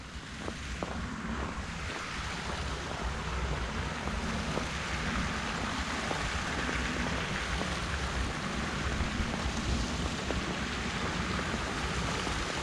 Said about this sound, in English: We got a cool little waterfall right here.